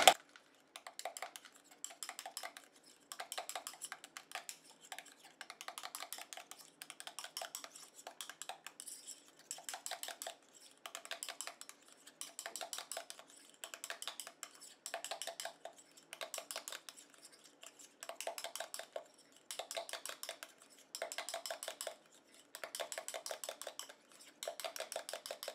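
Homemade face cream being stirred in a small container, a fast, steady run of light clicking and tapping strokes in bursts with short pauses, close and faint, no speech.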